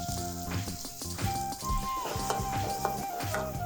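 Onions sizzle and crackle in sesame oil with cinnamon, cardamom, cloves, green chillies and curry leaves, a steady close frying hiss with scattered pops and stirring scrapes.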